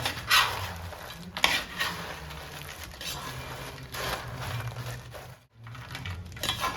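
Banana chips being stirred through thick jaggery syrup in a pan, giving soft intermittent scraping and clinking of a spoon against the pan, moderately quiet and steady with brief pauses.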